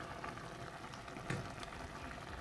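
Chicken simmering in its own broth in a cooking pot, with no added water: a quiet, steady bubbling hiss with soft pops, heard close and alone.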